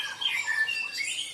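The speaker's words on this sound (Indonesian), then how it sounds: "Suara burung-burung pada merdu ya, berkicau." Outdoor birds give a brief burst of high, thin squawks and chirps on a cool morning, moderately loud and overlapping, lasting only a moment.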